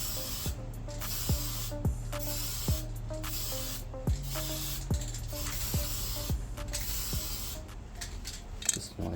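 Repeated hissing bursts from a spray can, each a second or so long, with a rattling pulse between sprays and a low background hum, while spray painting a Quintrex Dory 420 boat satin black.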